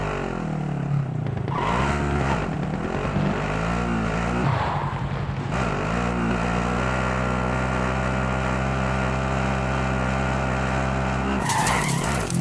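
A car driven in the Call of Duty Warzone video game roars and skids, its engine whining with squealing tire slides early on, then settling into a loud, steady engine drone before a burst near the end.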